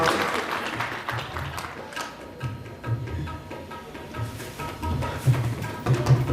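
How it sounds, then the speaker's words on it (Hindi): A crowd at a Gau Bhagwat Katha religious gathering claps steadily, with murmuring voices and a low hum running underneath, the clapping swelling slightly toward the end. "माता जी के तालियां बजाइए।"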